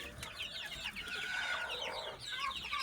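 Chickens cluck and peck close by in a quiet farmyard, soft overlapping clucks and chirpy calls continuing throughout at low volume.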